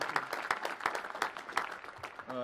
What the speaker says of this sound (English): You can give the Secretary of Commerce a round of applause.